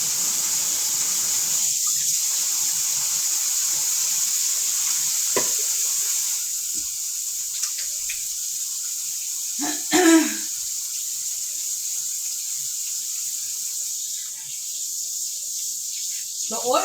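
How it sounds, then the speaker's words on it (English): Hands rinsed under a steady stream of running kitchen tap water, a continuous close hiss with a few brief splashes and clatters partway through. "I'm going to wash my hands."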